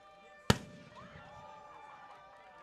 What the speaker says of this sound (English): And the cannon fires again.